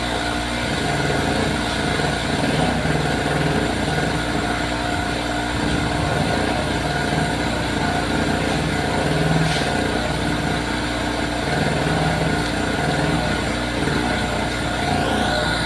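An Oshima portable electric generator runs steadily at close range, its engine drone loud and constant throughout with no talk over it.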